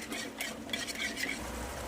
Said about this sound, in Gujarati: દહીં ઉમેર્યા પછી સતત હલાવતા રહેવાનું,